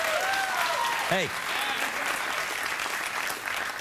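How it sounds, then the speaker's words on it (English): A late-night television studio audience bursts into loud, sustained applause that fills the whole clip, with a voice briefly calling out over the clapping near the start. "you applaud that, I'll do it again."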